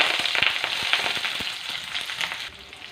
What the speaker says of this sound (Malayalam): കടുക് താളിക്കാനിട്ടത് നന്നായി ഒന്ന് മൂത്ത് കിട്ടട്ടെ